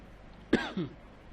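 Two quick coughs, close and fairly loud, the second softer, then quiet room tone.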